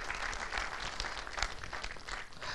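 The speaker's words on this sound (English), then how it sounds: "Another big round of applause, my dear friend" Audience applause at a talk, a continuous, fairly faint and distant wash of many hands clapping with no talk over it.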